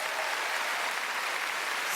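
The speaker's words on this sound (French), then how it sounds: "j'aimerais ça qu'on donne une bonne main d'applaudissement aux danseuses et aux danseurs" Audience at a 2009 comedy gala applauding the dancers, a steady wash of clapping sustained at even loudness for the whole stretch, with no voices on top.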